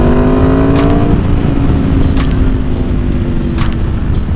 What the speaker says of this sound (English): This bike, with the V4, with it being a V4, it gives a different kind of sound.